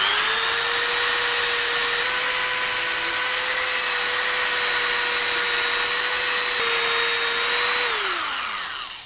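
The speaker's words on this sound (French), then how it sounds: "Le développement des machines électroportatives a permis l'invention d'une lime électrique." An electric file works on metal with a steady high-pitched whine, loud and continuous, its pitch dropping briefly and then winding down as the tool slows near the end.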